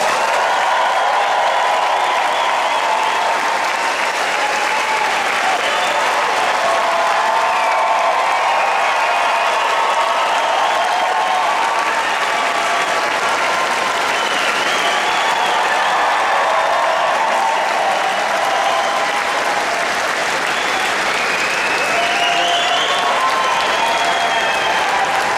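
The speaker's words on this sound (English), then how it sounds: "put your hands together for a nice warm round of applause" A large convention crowd at the 2012 Calgary Expo gives a long, loud, sustained round of applause and cheering to welcome Stan Lee to the stage, dense clapping with no letup.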